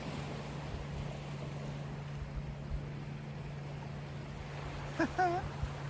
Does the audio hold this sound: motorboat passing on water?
yes